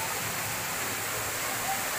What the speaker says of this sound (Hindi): ये पानी टप टप गिर रहा है, मस्त दिखता है यहाँ से